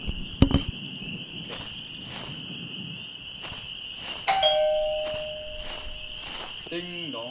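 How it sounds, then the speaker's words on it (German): In the horror game PizzaDelivery, a doorbell gives a single ringing chime that decays slowly, after footsteps and over a steady cricket-like chirping drone. "Ding dong."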